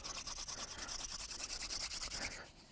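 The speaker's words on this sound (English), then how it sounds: "you start spinning your spindle into that hole" A wooden spindle drilled back and forth into a pilot hole in a fireboard for friction fire-making, a fast rhythmic rubbing and scraping with quick regular strokes, close and steady, no talk.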